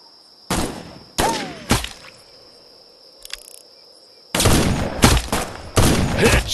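Sniper rifle shots in the video game Sniper Arena, three sharp separate blasts followed by a dense cluster of loud shots, all over a steady high insect-like hum.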